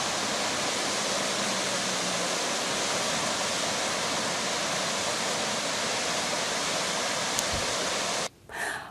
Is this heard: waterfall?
yes